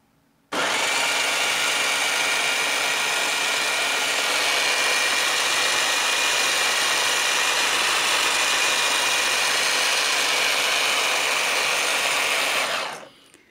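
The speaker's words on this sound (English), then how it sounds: "all four wheels spin. Let's just give it a little throttle." A TopMaz Racing Mustang GT4 four-wheel-drive RC car's electric motor whines steadily at high pitch under light throttle, starting abruptly, holding near and loud for about twelve seconds, then cutting off.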